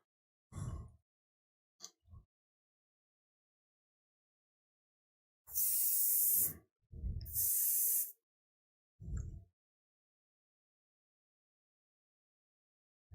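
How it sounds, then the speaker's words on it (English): Short hissing bursts from an airbrush spraying paint on a miniature dragon under a desk, with two longer loud sprays among brief puffs and quiet gaps. "So I'm spraying it out underneath my desk right now."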